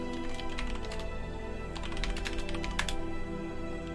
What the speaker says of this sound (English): which is what I'm typing in here